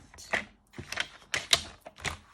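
A paper trimmer slicing cardstock, five or so crisp, close mechanical clacks and scrapes in a loose rhythm, quiet and dry with no voice.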